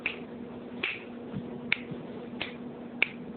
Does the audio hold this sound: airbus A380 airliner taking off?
no